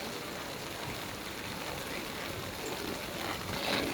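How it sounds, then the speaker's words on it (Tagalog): Heavy typhoon rain falls at Yung Shue Wan on Lamma Island, a steady, even hiss of downpour filling the whole stretch without letup, moderately quiet and with no clear voices over it. "Lakas ng ulan. Talaga."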